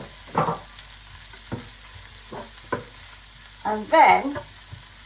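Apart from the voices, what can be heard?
onions and sausage pieces frying in a pan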